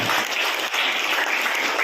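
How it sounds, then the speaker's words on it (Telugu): Steady, loud applause from an audience at a school event honouring students' parents fills the clip throughout, with no talk over it. "ఆ తల్లిదండ్రులకు ఒకసారి చప్పట్లతో అభినందించారు"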